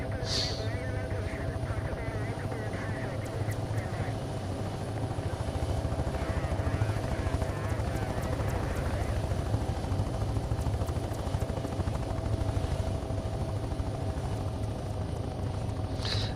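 Helicopter engine at full throttle lifting off in the flight game Take on Helicopters, a steady loud droning whine with rotor chop running throughout, with a voice talking over it.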